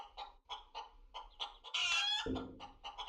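A chicken in the space survival video game Breathedge gives a short, loud squawking cluck midway through, with a chirpy rhythmic game sound before it and a low hum after.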